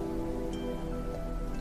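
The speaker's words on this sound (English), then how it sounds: "feeling the rain falling on your arms, on your face" Steady soft rain falls on a garden path, a faint, even patter that continues without a break.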